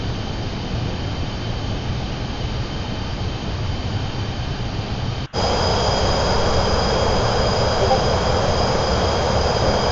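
Steady, loud jet-engine roar inside a typhoon research aircraft in flight, a continuous broadband drone that briefly drops out and returns slightly louder and brighter.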